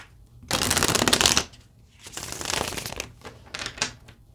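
A deck of tarot cards is shuffled close up in three riffling bursts. The first is the loudest and longest, and the two after it are softer, with short quiet gaps between them.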